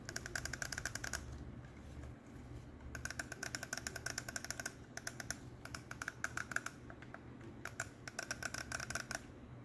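Tactile switches on a Gamesir Supernova game controller pressed in quick bursts of crisp clicks, close and fairly quiet, with short pauses between runs and no speech.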